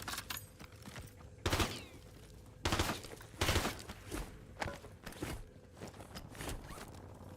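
Gunfire in the video game Vertical: a few separate loud bursts of shots with quieter scraping and movement noise between them, no speech.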